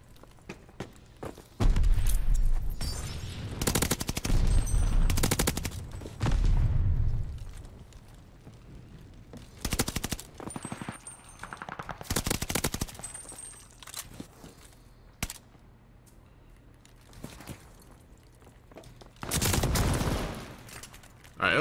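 Light machine gun fire in Call of Duty, loud bursts of automatic gunfire and explosions recurring through a chaotic multiplayer match, with gaps of quieter background action between bursts.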